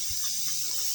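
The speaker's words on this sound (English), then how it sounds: "I've taken those off to let the rest of the steam come out." Steam hisses steadily out of a pressure canner of green beans on an outdoor grill once the weights are lifted off, a loud, even, airy rush throughout.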